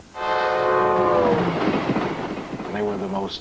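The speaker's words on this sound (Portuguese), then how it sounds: "Estes vagões são os mais luxuosos já construídos." A luxury train of railway carriages sounds a long, loud, steady horn blast with strong harmonic tones that fades around midway, giving way to rumbling rail noise, then returns as a shorter blast near the end.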